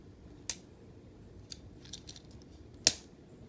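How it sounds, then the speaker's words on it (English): A plastic Transformers Studio Series Bumblebee toy's leg part snaps into place with one sharp, close click near the end, after an earlier softer click and faint handling taps in a quiet room. "this part of the leg right there will just click into place"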